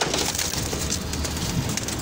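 Male pigeons coo nearby in low, throaty murmurs over a busy, rustling background.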